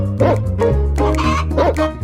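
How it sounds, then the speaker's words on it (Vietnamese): A hen clucking as she runs: a few short, sharp clucks in quick succession, close and loud, over a low musical background. "Cục tác, gà mái vừa kêu vừa chạy."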